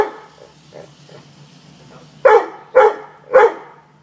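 A dog barks three times in quick succession, loud and close. Softer whimpers and low sounds come first, and a faint steady hum runs underneath.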